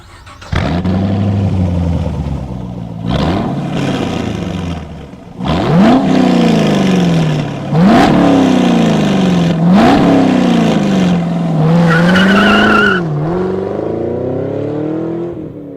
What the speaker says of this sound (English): And finally, we have Borla's Atak exhaust.